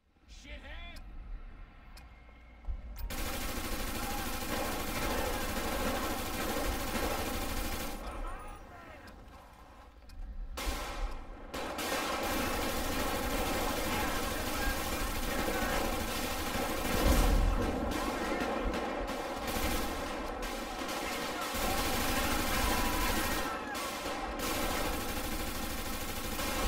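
Rapid gunfire in GTA V during a modded rampage, dense repeated shots and bursts running almost continuously for nearly half a minute, loud and close, with a brief lull early on and voices mixed in.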